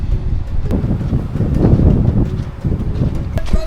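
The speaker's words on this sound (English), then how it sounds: "There's a wind going on." Strong wind on Bamboo Island near Krabi buffets the microphone in loud, uneven gusts, with faint rustling and scattered knocks underneath.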